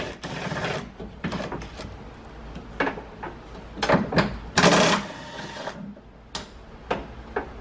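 A ratchet works size 10 bolts loose on a 2013-2017 Mazda CX-5 side mirror, producing irregular close clicks and rattling bursts with short pauses, no talk.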